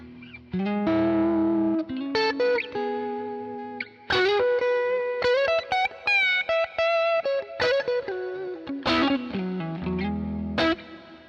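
Clean, chiming electric guitar playing bright ringing chords and single notes with a shimmering chorus-like effect, loud and close, no voices.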